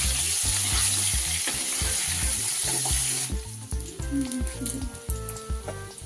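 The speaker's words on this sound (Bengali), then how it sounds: "সামান্য পরিমাণ হলুদ গুঁড়ো আর নুন মিশিয়ে আলু লালচে করে ভেজে নিচ্ছি।" Potato pieces fry in oil with turmeric and salt for a vegetarian chhana biryani, making a steady close sizzle with stirring clatter against the pan.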